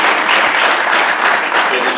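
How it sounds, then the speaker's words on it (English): A crowd at a town council meeting claps in loud, sustained applause that fills the room evenly for the whole stretch, with no break or voice rising above it. "round of applause for"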